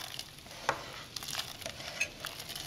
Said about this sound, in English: And now I'm just going to go ahead and add my vegetables to this pot.